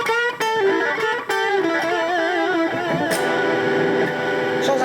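Electric guitar run through a Zoom G2 NU multi-effects pedal with an echo effect, a continuous flow of sustained, ringing notes and repeated strums trailing into soft repeats, loud and close with no talking.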